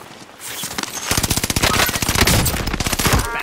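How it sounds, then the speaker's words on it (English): Rapid automatic gunfire in a video game, a dense burst of fast shots starting after a brief quiet lead-in and continuing loud and close to the end. "Bastard trying to shoot me."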